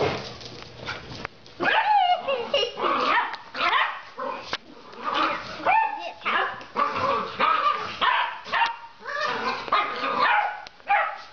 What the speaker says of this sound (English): This is an underground dog fight.